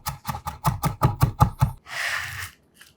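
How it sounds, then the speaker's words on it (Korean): A knife coarsely mincing two whole garlic cloves on a board, a quick run of about eight sharp, close chops followed by a brief scraping sweep. "김치의 감초 역할을 하는 통마늘 2개는 살짝 굵게 다져서 담고"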